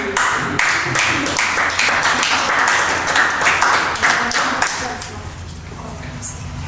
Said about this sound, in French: vous pourriez vous applaudir vous-même ici.